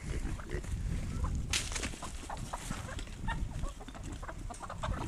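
Chickens cluck and squawk steadily in a noisy farmyard, several birds close by, with rustling and scuffling throughout.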